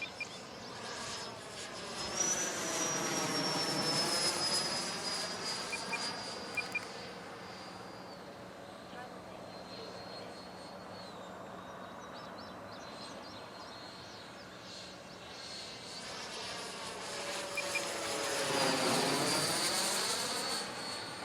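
A HobbyKing composite BAE Hawk electric ducted fan model jet on its maiden flight whines past in repeated passes, its high turbine-like tone rising and falling as it closes in and pulls away, loudest near the start and again near the end.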